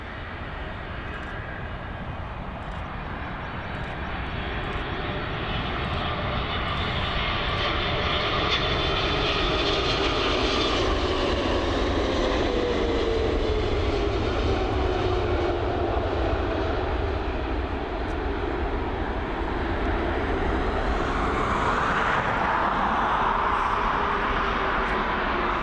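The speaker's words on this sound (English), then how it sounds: "There she is, down nice and safely onto runway 28 here at Dublin International." Airliner landing on runway 28 at Dublin Airport: a broad, steady jet roar that swells and stays loud for the whole stretch, with a faint whine sliding across it as the aircraft rolls along the runway.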